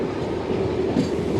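Passenger train at Kachiguda station, a steady close rumble of rolling wheels and rail clatter that continues unbroken throughout.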